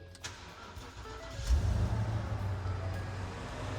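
Custom Ford Bronco with a Roush-supercharged Coyote 5-liter engine and Cook's long tube headers, running on mild exhaust, starts up: a brief crank, then the engine catches with a low rumble that settles into a steady idle.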